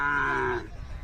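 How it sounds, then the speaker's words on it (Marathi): A bull at a rural cattle fair in Aigali, Athani, Belgaum gives a short, close, deep moo lasting about half a second before it cuts off into background crowd noise. "जुळलेली बडाव बैल आहे, पाहू शकता."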